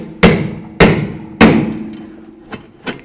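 Hammer strikes on the steering knuckle of a 2003-09 Mercedes-Benz E320 to free the upper control arm ball joint: three sharp, ringing metallic blows in quick succession, followed by two lighter taps, close and loud.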